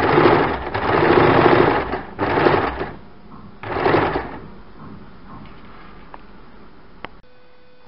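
A sewing machine stitches along a fabric strip for a katori-cut blouse, running in close, loud whirring bursts. Several short runs are broken by pauses, then the motor stops and a faint click follows.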